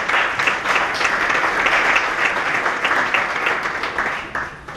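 Audience applause greets a woman taking the floor at a gathering, a dense, even wash of clapping from many hands that holds steady and begins to fade at the end.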